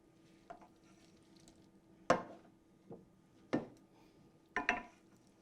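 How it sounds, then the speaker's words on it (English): Metal spoon knocking against a tilted pan of pork and ricotta meatballs in broth, four sharp clinks spread over a few seconds, close and fairly quiet against a low kitchen hum. "I'm going to come back and tilt the pan a little bit because I want to get some of that delicious broth."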